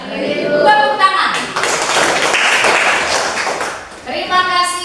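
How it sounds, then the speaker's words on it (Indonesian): Children in a classroom lesson clap together for roughly three seconds, a dense burst of hand claps that rises between stretches of an adult teacher's talk. "Tepuk tangan."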